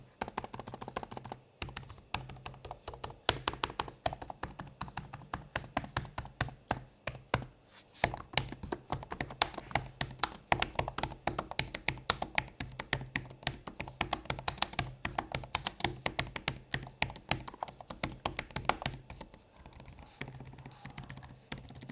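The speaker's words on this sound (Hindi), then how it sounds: "बट ये जो कीबोर्ड है ये बिल्कुल टैक्टाइल नहीं है, काफी स्मूथ टाइप ऑफ कीबोर्ड है।" Steady typing on the smooth, non-tactile keyboard of a Lenovo Legion Slim 7 gaming laptop, with dense quick key taps in a continuous flow, close and fairly soft, with only a few brief pauses.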